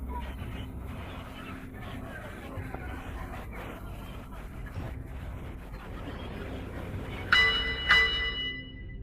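A boxing ring's final bell sounds at the close of a George Foreman fight, two sharp rings near the end ringing out over a dense, steady arena crowd roar.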